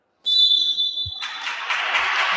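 A referee's single sharp, shrill whistle blast cuts through, followed by the echoing murmur and rustle of a crowd in a large hall at a Serie A2 basketball game, calling an 8-second violation.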